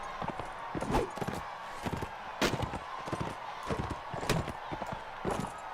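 A horse's hooves thud in a rapid, uneven clip-clop rhythm during a medieval siege battle in Mount & Blade: Warband, close and fairly loud, mixed with sharp impact sounds and ongoing game noise.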